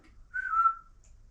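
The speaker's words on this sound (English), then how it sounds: "That sounded like a whistle that time." Inside the reputedly haunted house at 30 East Drive, a single short whistle sounds, a thin sustained tone lasting under a second, faint and somewhat distant in an otherwise quiet room.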